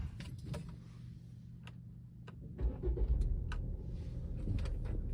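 A 2016 Volvo S60 with a 2-liter four-cylinder engine starts up quietly, a low steady idle hum rising slightly after a soft catch, with light clicks and cabin noises over it.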